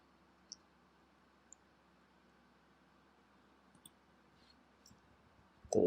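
A computer mouse clicks faintly and sparsely at a desk running Kali Linux, a few soft isolated ticks over a quiet hiss, with a louder bump at the very end.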